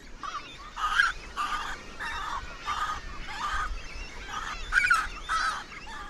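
Gulls and their chicks call at a sea colony in Peter the Great Gulf on the Sea of Japan, with repeated honking, nasal cries in irregular bursts over a low background rumble.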